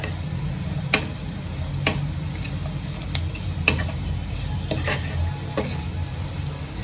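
Steamed vermicelli upma with salt and turmeric being stirred in a pan: a constant low sizzle with sharp spatula taps against the pan at irregular intervals, close and with no talk.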